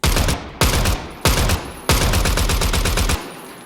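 Full-auto weapon fire in the video game Zero Hour, four loud, close bursts of rapid gunfire, each lasting about half a second to over a second with brief gaps between, the last burst the longest.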